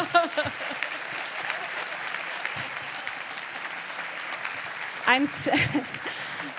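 Luncheon guests give a sustained round of applause, a broad even wash of clapping through most of the moment, with a voice breaking in near the end.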